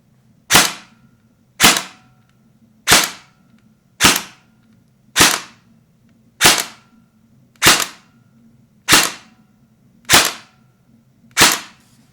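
An EMG Noveske N4 gel blaster firing single shots: ten sharp, close cracks spaced evenly about one second apart, each quickly decaying over a faint low hum, with no talking.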